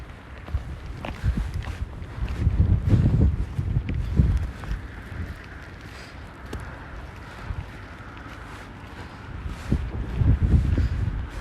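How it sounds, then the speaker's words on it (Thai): Very strong wind blowing outdoors on an icy road in snowy weather, rumbling gusts buffeting the microphone in surges that rise and fall across the whole stretch. "ลมแรงมาก"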